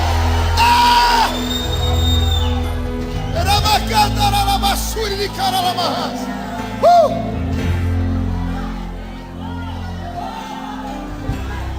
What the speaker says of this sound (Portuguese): dá um berro de glória a Deus nesse lugar